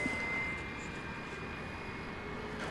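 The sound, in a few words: aircraft at DFW Airport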